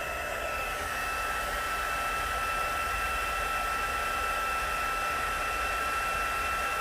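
A handheld heat tool blows steadily on puffy paint, a loud continuous whooshing roar with a faint whine, running alone without pause throughout.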